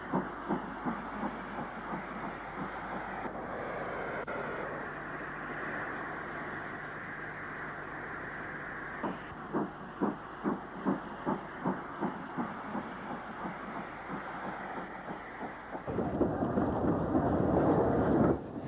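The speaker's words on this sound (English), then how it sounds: "This is a former Great Western Railway Grange class locomotive." A former Great Western Railway Grange class steam locomotive working hard, with steady rhythmic chuffs over a hissing rumble, the beats growing sharper and more distinct before a louder roar.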